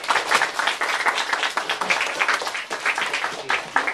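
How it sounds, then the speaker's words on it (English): Audience applause at an elementary school event for a visiting Liberal Party politician, steady dense clapping throughout with no pauses, fairly close and loud. "Let's give a round of applause first to John Martin from the Liberal Party."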